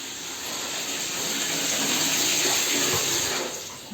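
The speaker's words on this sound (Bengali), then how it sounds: "এখানে সব বালতিতে ভরে নিয়েছি জল।" Tap water runs steadily and loudly into buckets and tubs at home, a continuous gushing splash with no voices.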